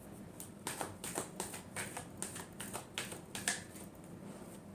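Tarot cards being shuffled by hand give a quiet, rhythmic run of crisp flicks and taps, evenly spaced and close, with faint background hiss.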